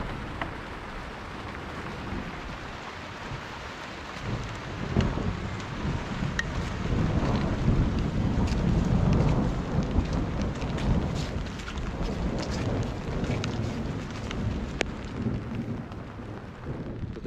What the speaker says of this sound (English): it's pouring down the whole day